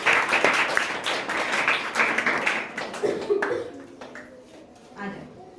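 A class of schoolchildren breaks into loud, dense clapping for a student announced first in class 3 at a school exam results event. The applause fades after a few seconds as voices talk over it.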